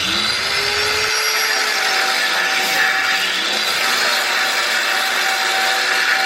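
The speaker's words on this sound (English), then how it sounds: "now we just gotta cut this clamp off right there, because it's a little rusted on" A power tool cuts through a rusted exhaust clamp on a Ram 1500 with a continuous, loud, harsh whine and grinding hiss, steady throughout and heard up close, with no one speaking.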